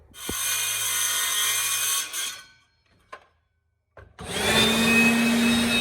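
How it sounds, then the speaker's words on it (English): A drop saw buzzes loudly while cutting wood for a bench top, then winds down. A quiet pause with a soft knock follows before the saw starts and cuts again. "I'm going to quickly cut some wood to go across the top."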